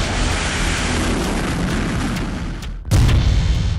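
Bombing in Beirut during an Israeli air strike: a sustained, dense roar of blast rumble fills the first seconds, breaks off briefly, then a second loud, close explosion bursts in with heavy low-end energy.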